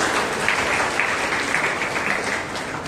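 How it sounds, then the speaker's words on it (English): An audience at a Monday Christian prayer meeting bursts into steady, dense applause that fills the whole stretch, loud and continuous with no voices standing out. "Give us a big clap."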